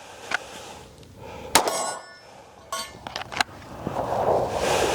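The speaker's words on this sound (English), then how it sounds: "round 850, going to 900, shooting at 22/17 yards" A Glock 43X pistol fires at steel targets from 17 to 22 yards, sending out a few sharp cracks spaced irregularly, several followed by a metallic ring, over quiet outdoor background noise.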